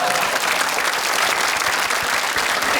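Loud, dense audience applause at a French comedy show, a continuous wash of clapping filling the room without pause.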